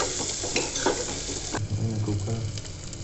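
Onion and tomato fry in a pan for a tinda sabzi, a loud, steady sizzle close by with brief stirring knocks and scrapes through it.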